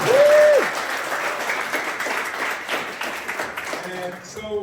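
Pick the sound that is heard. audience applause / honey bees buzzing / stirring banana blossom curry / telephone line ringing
audience applause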